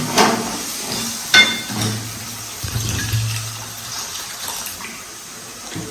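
Water splashes and sloshes in short bursts as rice is washed, with knocks and clinks against a vessel, close by and fairly quiet.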